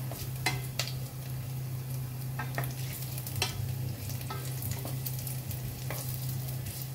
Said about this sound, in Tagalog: Giligisa na natin ang ating luya.